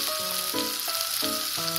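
Chopped tomatoes hit fried onions in a hot pan for dal tadka, giving a loud, steady, close sizzle over a faint tonal hum, with no voices.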